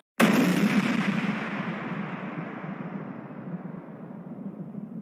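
A refrigerator explodes inside a home: one sudden, loud blast hits at once, then a long roaring rumble slowly fades, with no voices.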